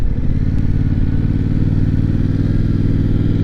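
A Yamaha MT-07 parallel twin motorcycle rolls along at low speed, its engine a steady, loud, close-up throb with a constant low pulsing note throughout.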